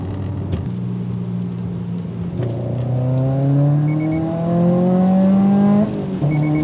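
Car engine fitted with equal-length headers pulls through the revs, climbing in pitch over a few seconds, then dropping and picking up again after a quick shift, loud and close.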